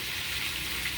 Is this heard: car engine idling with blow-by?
no